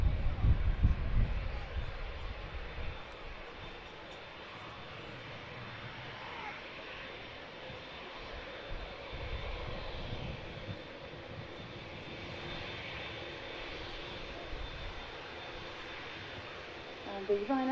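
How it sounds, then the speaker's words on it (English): A Ryanair Boeing 737-800 jet taxis at Manchester Airport, a steady, fairly distant engine drone that holds at an even level throughout, with a brief louder rumble at the start and end. "The Ryanair 737-800 just taxiing out there is only a short hop there to Shannon"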